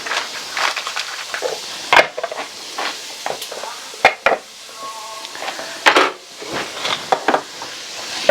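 Six tablespoons of butter melting and sizzling in a pot for country chicken and dumplings, a steady crackle broken by clinks and scrapes of a stirring utensil against the pot.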